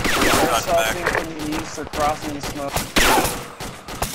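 Gunfire in a video game, with sharp bursts and shots scattered among voiced talk that runs through most of the stretch, fairly loud and close.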